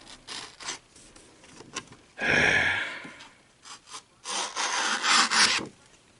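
A Tops M4X Punisher knife blade shaves a curl from wood in scraping, rasping strokes, one long pass followed by several shorter uneven scrapes, close and fairly loud with no talking.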